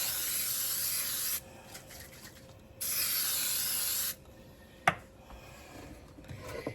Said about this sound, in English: spray with baking spray